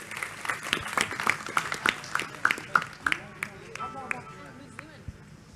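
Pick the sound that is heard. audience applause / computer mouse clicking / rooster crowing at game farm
audience applause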